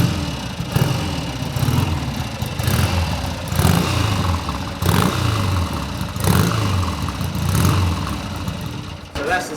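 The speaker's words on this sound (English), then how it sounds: "That's the sound of the Great Escape bike" A classic Triumph motorcycle engine, built as a Great Escape replica, idles and is blipped repeatedly, a throaty rumble swelling in regular revs, close and loud.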